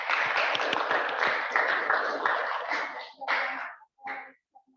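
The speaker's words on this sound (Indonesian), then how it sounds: "Tepuk tangan." Classroom applause from students in an accounting class, a short burst of many hands clapping that thins out and breaks into a few scattered final claps before stopping.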